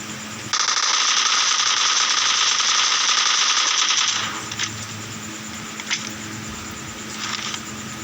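Rapid automatic gunfire in a video game rattles loudly and continuously for several seconds, then gives way to a few scattered single shots over a quieter background.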